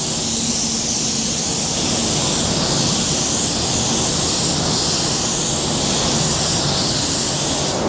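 Steady, loud hiss of an automotive spray gun laying paint onto a car bumper, continuous and close without pause.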